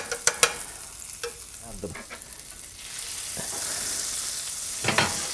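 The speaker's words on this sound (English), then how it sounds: "So now I'm adding the butter." Butter melts in a smooth cast iron skillet while an egg and cheese omelette is being prepared. A few sharp taps come first, then a soft hiss that swells into a steady, close sizzle.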